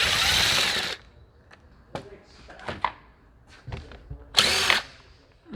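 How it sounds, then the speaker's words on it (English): A power drill whirs through two bursts removing the seat bolts on a Burromax mini bike, a long run at the start and a shorter one near the end, with clicks and handling noises in between. "Remove the bolts of the seat."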